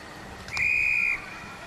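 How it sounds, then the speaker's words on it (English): At a football match, an umpire blows a single sharp, steady whistle lasting about half a second. It rises clearly above the faint crowd and ground noise. "Umpire blows a whistle before anyone's touched it"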